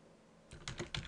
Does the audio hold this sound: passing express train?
no